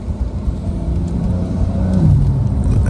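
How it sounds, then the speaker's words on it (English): Custom-built Porsche 911 engine runs with a low, steady rumble and a slight rise in pitch toward the end, heard up close with no talking. "But car's running strong."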